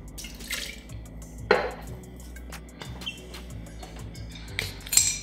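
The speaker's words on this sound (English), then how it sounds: "first you're gonna pour 2 ounces of your favorite bourbon in a mixing glass" Bourbon, two ounces, poured into a mixing glass for a clarified New York Sour, heard as soft trickling drips and a few light glassy clinks, quiet and close, with no voices.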